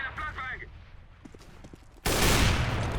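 Gunfire in Counter-Strike on the Inferno map, a sudden loud burst of rapid shots after a quieter stretch with faint voices and clicks.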